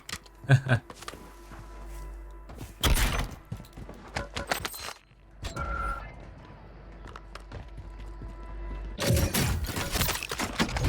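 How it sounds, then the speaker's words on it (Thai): Striker 9 SMG gunfire in the Call of Duty Warzone video game, several loud, rapid bursts of automatic fire separated by pauses, with clattering game sounds and a player talking in between. "แหมสไตรเกอร์ปรับมาใหม่ นี่ยิงโคตรมันเลยวันเพื่อน"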